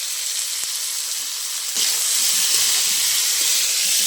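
Cabbage fries in a pan with turmeric and salt, a loud continuous hissing sizzle that swells after a brief clunk partway through.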